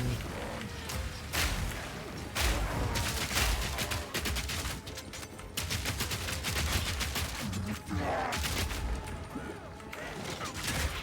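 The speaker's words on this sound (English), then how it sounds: "Grenades for everyone." Rapid grenade explosions and gunfire in the action video game Path of Exile 2, with a dense, steady barrage of sharp bursts and crashes throughout the clip.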